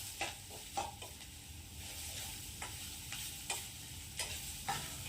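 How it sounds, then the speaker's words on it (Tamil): Grated raw banana stir-fried with a spice tempering in a pan, a soft steady sizzle broken by intermittent scraping strokes of a spatula, close and fairly quiet with no talk. "இப்போ அந்த துருவி வச்சுருக்க வாழைக்காயை அதில் போட்டு நல்லா அந்த தாளிப்போட கலந்து விடுங்க."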